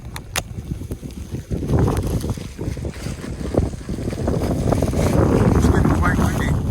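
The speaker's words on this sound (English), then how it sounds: "It's getting quite windy." Gusty wind at a snowy creekside campsite roars and buffets the microphone steadily, building in strength, with people talking faintly underneath.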